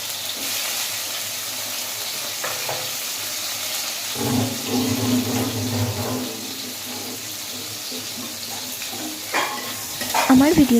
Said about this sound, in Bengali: এরপরেই কলা ভাজা বসিয়ে দেব।